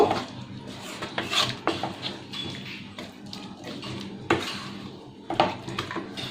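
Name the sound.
mixing potato and spice curry in a pan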